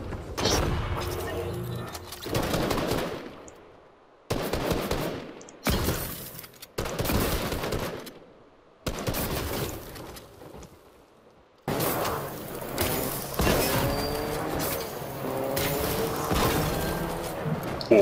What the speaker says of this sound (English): Because of the explosion.